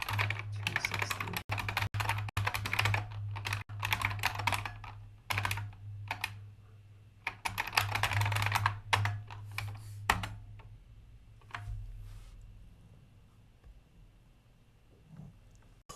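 Computer keyboard keys pressed in bursts of rapid clicking, close and fairly quiet, with brief pauses between flurries and a steady low hum underneath.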